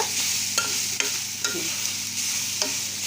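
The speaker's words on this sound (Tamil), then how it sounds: "நல்லா கிண்டி விட்டுக்கலாம். லோ ஃபயரில் வச்சு." Crumbled paneer stirred with softened fried onions in a pan over low heat, a continuous sizzle broken by a few sharp scrapes of the spoon against the pan.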